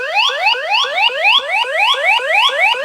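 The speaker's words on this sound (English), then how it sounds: "Smoke alarm is triggered." A loud electronic alarm from an X-Sense SC07-WX smart smoke and carbon monoxide alarm repeats a rapid rising whoop, about three per second, continuous and close with no voices.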